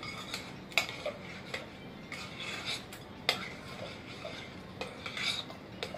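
A spoon stirs potato salad seasoned with salt in a bowl, giving quiet scraping and soft, irregular clinks against the dish with a few sharper taps.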